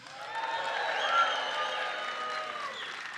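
Conference audience applauding and cheering at a family history event, a steady wash of clapping and crowd noise that swells slightly near the middle and holds throughout.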